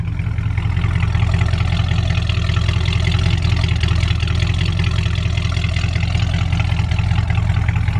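Steady, loud idle of a 1963 Ford F100 pickup engine with a mild exhaust, a constant low rumble held close and unchanging throughout.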